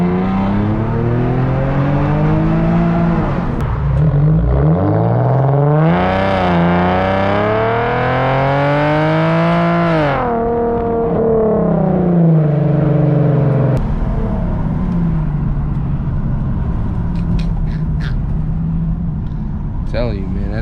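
An Infiniti G37x with Vibrant resonators drives hard, its exhaust droning loud and close as the engine revs rise and fall through the gears, with one sustained aggressive pull in the middle.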